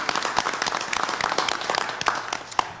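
Audience at a school board meeting claps for teachers and administrators, a steady patter of many hands with a few sharper claps standing out, moderately distant and with no talking over it.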